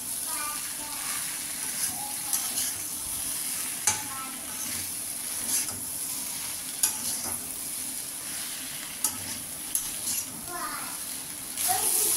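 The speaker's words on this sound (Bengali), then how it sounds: "দিয়ে দেবো হলুদ গুঁড়ো, দিয়ে আবারও ভালোভাবে কষিয়ে নেব।" Spices fry with turmeric powder in a pan, a close, continuous sizzle broken by scattered clicks of stirring, with quiet talk in the background.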